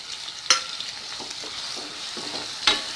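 Chopped onions with curry leaves sizzle steadily in a frying pan, with two sharp scrapes of a spatula stirring them.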